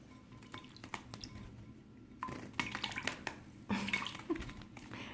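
Water splashing in a bathtub as a child bathes, irregular sloshes and splashes rising in bursts, louder toward the end, close by with no talk.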